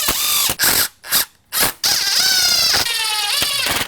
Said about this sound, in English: I can put all those 1-inch screws in.